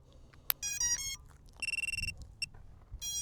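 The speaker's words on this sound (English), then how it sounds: "it's making a lot of beeps." A Deepspace ROC7 metal detector sweeping over soil and rocks gives off a string of beeps and chirpy tones in short bursts, some rapid and repeated, clear and close in a quiet setting.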